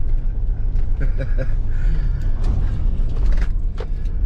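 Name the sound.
wind noise through open car windows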